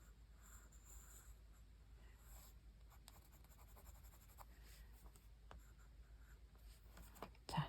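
A drawing tool pressed broadly against paper to shade the ground of a winter tree landscape, producing faint, close scratchy strokes in irregular bursts, with a louder handling noise near the end.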